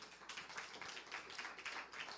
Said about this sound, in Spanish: Alguien déle un aplauso fuerte.